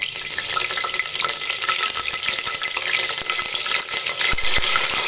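A bay leaf fries in hot oil already seasoned with cumin seeds, giving a continuous crackling sizzle with light scraping and a couple of sharp clicks near the end, close and steady without talk.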